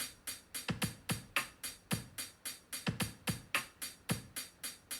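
A programmed drum kit pattern, written in semiquavers, plays a steady groove with regular bass drum kicks and bright hi-hat ticks for several bars, clear and alone.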